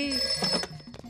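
A telephone rings with a bright, trilling bell in a comedy film scene, brief and moderately loud, with a voice briefly overlapping near the end.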